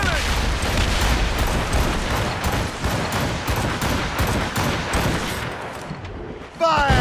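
Naval cannon fire in a video game sea battle off Labrador, with dense, continuous booming volleys and rattling gunfire crowding the whole stretch, loud and close, with shouted voices mixed into the din.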